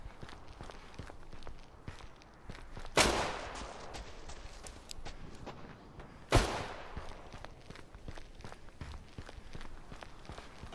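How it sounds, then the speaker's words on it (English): Two sharp, loud gunshots ring out a few seconds apart in the survival shooter Deadside, each followed by a short echoing tail, over quiet footsteps and faint ambient noise. "I think they're shooting at me."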